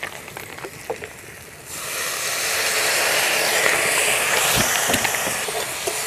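Duck meat with ground coriander and salt frying in a pan, a soft clatter of stirring giving way to a loud, steady sizzling hiss after water is added, close and without talk.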